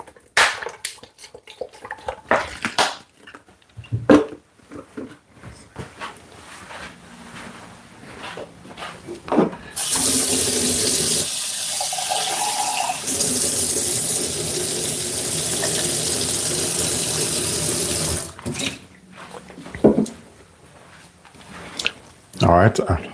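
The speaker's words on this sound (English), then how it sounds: "we're going to put water in." Tap water pours steadily into a blender holding chunky Jamaican all-purpose meat seasoning ingredients, a continuous rushing stream lasting about nine seconds, with clattering and a person talking before and after.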